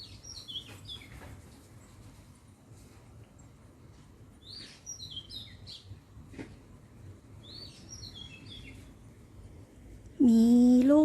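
Birds chirp around an olive tree in short bursts of high, quick tweets throughout, with a louder, sharper call right up close near the end.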